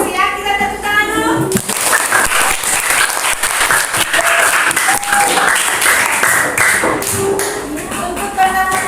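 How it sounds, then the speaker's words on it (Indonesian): Schoolchildren in a classroom clapping together at the end of a lesson, dense lively applause that runs the whole time, with children's voices briefly audible at the start. "Kita tepuk tangan dulu."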